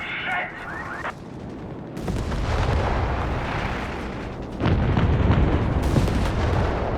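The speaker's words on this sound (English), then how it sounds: "Artillery called in here on the center." Artillery barrage in the World War II strategy game Company of Heroes 3, with deep booming blasts that build into a sustained, loud rumble of impacts and a heavier surge of explosions near the end.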